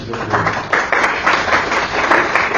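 A church congregation claps their hands together in praise, a loud steady burst of many overlapping claps filling the room with no voices over it.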